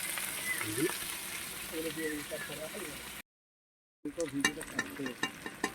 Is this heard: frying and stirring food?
yes